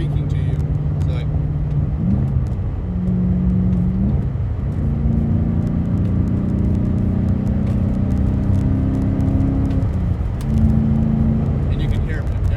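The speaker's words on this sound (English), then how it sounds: "at idle, thing sounds like a muscle car" Swapped 540/6 V8 engine idling in a car with a deep, steady muscle-car rumble throughout, with a few gentle rev changes, heard from inside the car while someone talks over it.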